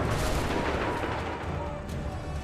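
Gunfire crackles continuously during a battle at Lexington in Assassin's Creed III, a dense, rumbling wall of distant volleys and booms with no pauses.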